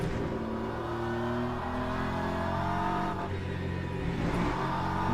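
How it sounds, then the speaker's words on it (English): A Lamborghini race car in Le Mans Ultimate, alongside hypercar traffic, with engines revving and shifting through gears, loud and close, pitch climbing and dropping steadily with no talk over it. "There's a Lamborghini."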